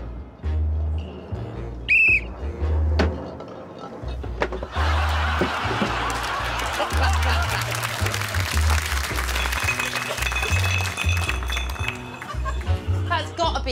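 A sharp whistle is blown once to end a spinning task at an indoor event, followed by a stretch of applause and overlapping voices.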